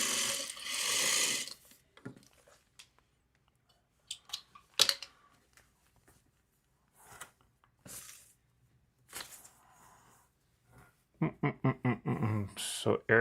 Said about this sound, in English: And then I will sew that